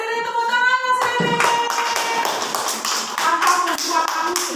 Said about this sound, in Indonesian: tepuk tangan Mas Rere.